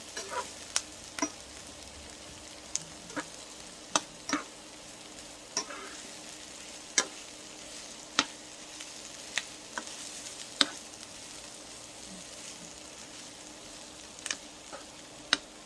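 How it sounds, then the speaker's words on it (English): Onions and garlic sizzling steadily in a pan, with regular sharp scrapes and clicks of a utensil stirring them, close and moderately loud with no talking. "So you just want to mix this up real good. Let your onions cook in there."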